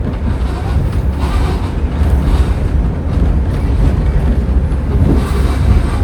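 A Chattanooga steam locomotive train rolls along a short stretch of track in a loud, continuous rumbling roar with steady mechanical churning, heard close up from aboard the ride.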